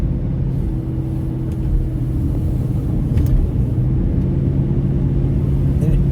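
A 1971 Mercedes 280SE 3.5 Cabriolet on a road test, heard as a steady low engine and road rumble from inside the car, even and continuous without distinct revs.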